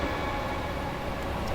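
Simulated Class 313 electric train from Train Simulator 2017 running into a tunnel, a steady dense rumble and rushing roar that stays loud and even throughout, with no voices.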